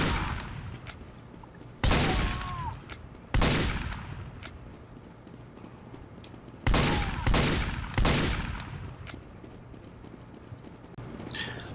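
Spy's pistol fires in a video game, five sharp, loud gunshots spaced irregularly, two of them coming in a quick pair, over a faint background hiss.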